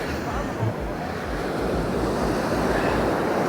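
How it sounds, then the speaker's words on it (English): Sea waves breaking steadily on the shore at Calella, a continuous loud wash of surf with wind buffeting the microphone throughout. "So as those waves are coming in and breaking on the shore, they're a lot more powerful and they give off this kind of white water."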